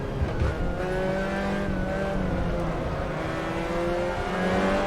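Loud Spec Miata (MX-5 Cup) race car engine whining at high revs in a racing game, its pitch climbing and shifting as it pushes on, with a constant roar of tires on the track.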